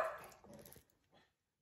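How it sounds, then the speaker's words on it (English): Dogs bark in a home in a few short, loud bursts close by, fading out after about a second. "Sorry about the dogs barking."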